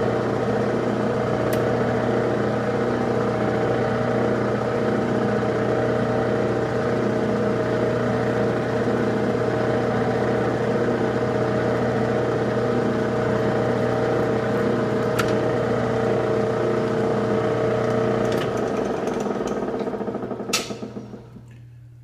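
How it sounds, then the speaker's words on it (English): A workshop machine with two loose drive belts runs continuously with a steady whirring, whining hum and faint rhythmic flutter, close and loud, then winds down near the end with a few clicks. "That noise you hear is my belt."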